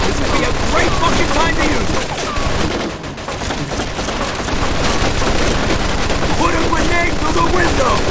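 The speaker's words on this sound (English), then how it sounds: "Looks like we found the machine gun!" Bursts of machine gun fire rattle loudly in a video game, with rapid repeated shots nearly nonstop and voices talking over the shooting.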